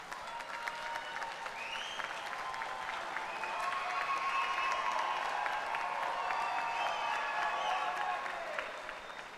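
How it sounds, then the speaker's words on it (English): A graduate school commencement audience at SIUE applauds in a large hall, steady dense clapping that swells a little and then tapers off near the end. "give a round of applause or a high five or a thumbs up to all the people that made this day possible for you."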